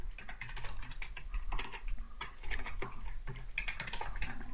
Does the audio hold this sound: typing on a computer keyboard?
yes